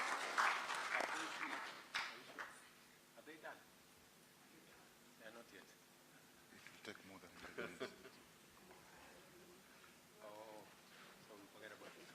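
An audience applauds faintly at a Kenya-Poland economic forum, the clapping strongest at the start and dying away within a few seconds, after which scattered voices and speech carry on quietly.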